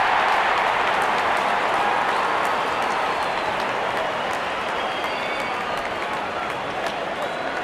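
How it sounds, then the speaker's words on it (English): A cricket crowd at a Pakistan vs South Africa T20 match cheers steadily as the openers walk out to bat, a dense, continuous roar of voices and clapping that holds loud throughout. "Openers walking in and the crowd cheering in anticipation."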